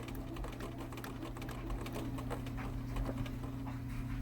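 Sewing machine stitching a quilt, a quiet rapid rhythmic whir of the needle running steadily close by, alone without talk.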